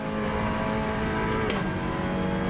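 A Cupra TCR race car engine drones steadily at Mugello in a racing game, a constant buzzing whine held at even revs with a brief sharp transient midway.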